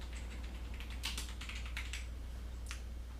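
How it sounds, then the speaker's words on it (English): A new mechanical keyboard typed on, with quick irregular clusters of crisp key clicks, close and fairly quiet, over a low steady hum. "I just opened up WordPad, and I'm just gonna type"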